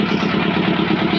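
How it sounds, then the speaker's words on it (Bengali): A boat's shallow-machine pump engine runs steadily nearby, a loud, even, throbbing rumble with a rattling clatter and no pauses. "তো গাইস আমাদের বোট চালু হয়ে গেছে"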